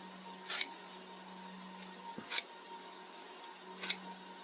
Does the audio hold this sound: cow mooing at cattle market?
no